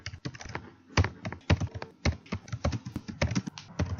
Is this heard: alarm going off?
no